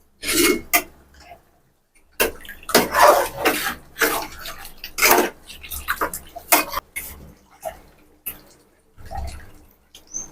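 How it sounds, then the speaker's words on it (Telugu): Tamarind pulp worked by hand in water for a fish curry, giving wet squelching, squishing and splashing bursts in irregular rhythm, close and fairly loud with brief pauses. "ఇప్పుడు చింతపండు నీళ్ళు కూడా అలాగే చింతపండు నీళ్ళు కూడా పిసికేస్తున్నాడు"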